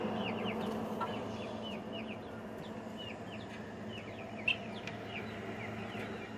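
A Frizzle Buff laced Polish rooster calls repeatedly among other clucking chickens, with several faint-to-moderate squawks over a steady low farmyard hum, no voices.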